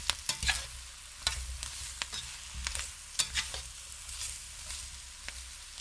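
A spoon scrapes and stirs cooked sausage through a pot of gumbo, sharp irregular clacks and scrapes against the pot over a low sizzling bed, close and fairly loud, with no voices.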